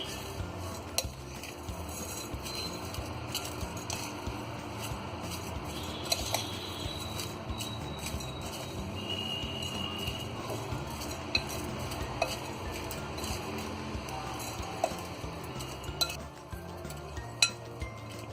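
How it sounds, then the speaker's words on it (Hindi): Chinese bhel with crispy noodles and vegetables being mixed together, a continuous soft scraping and stirring with scattered clinks of utensil against dish, fairly quiet with no talk. "सारी चीजों को अच्छी तरह हम मिक्स कर देंगे।"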